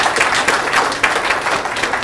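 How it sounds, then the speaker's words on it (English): A roomful of people at a smart home security meetup in New York applauds a guest, a loud, close, continuous flurry of overlapping claps with no speech. "Let's have a round of applause for"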